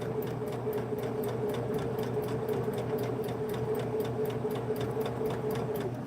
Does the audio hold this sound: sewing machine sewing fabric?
yes